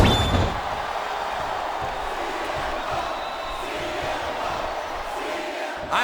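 A wrestling arena crowd chants and roars, a dense loud wall of voices that holds steady throughout.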